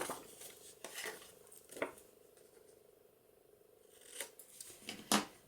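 Scissors snip paper for a journal cover, a few crisp, sharp cuts spaced out with quiet pauses between, close and fairly faint.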